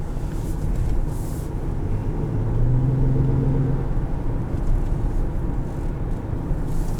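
A 2015 Honda Pilot EX-L with a 5-speed automatic transmission drives along, heard from inside the cabin as a steady loud low road and engine rumble, with a brief rising tonal whir midway.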